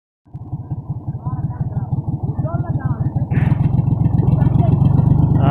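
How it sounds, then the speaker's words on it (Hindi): A tractor stuck while climbing up from a dirt track strains with a loud, close, pulsing diesel rumble that jumps to a harder rev partway through and holds there. "ट्रैक्टर फंस गई हमारी"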